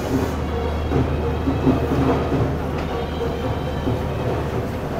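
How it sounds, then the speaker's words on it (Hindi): An old premium passenger train on the Attock route, known as the Rawalpindi princess, runs along the rails with a loud continuous rumble and faint rhythmic clatter. "पिंडी की शहज़ादी, रावलपिंडी की शहज़ादी कहा जाता है इस ट्रेन को"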